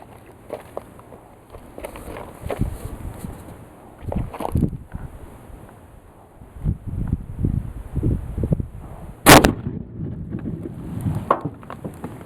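A .30-06 rifle shot sets off an exploding target packed inside a pumpkin on a hillside in Ohio, giving one sharp, loud blast. Wind and handling noise fill the rest of the clip.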